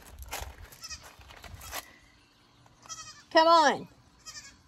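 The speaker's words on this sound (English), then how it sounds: "Here she comes around the corner. Baby goat." A baby goat gives one loud, wavering bleat nearby, with a fainter bleat after it, while a person calls to her.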